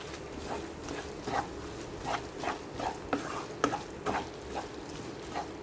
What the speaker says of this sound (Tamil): இப்போ இந்த மசாலாவை நல்லா எண்ணெயில் வதக்கி விட்டுருவோம்